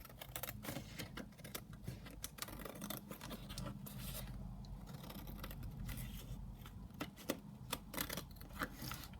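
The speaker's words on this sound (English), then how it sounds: "we can just cut around there" Scissors snip paper around the back cover of a Beatrix Potter themed junk journal, with quiet, irregular cutting and rustling close by against a low background hum.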